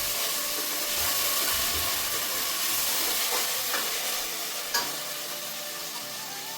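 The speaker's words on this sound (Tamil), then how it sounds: "இஞ்சி பூண்டு வந்து நல்லா வதங்கிடுச்சு" Ginger and garlic sauté with coriander, mint and curry leaves in a pan, a continuous close sizzle and hiss with faint stirring scrapes and one brief clink.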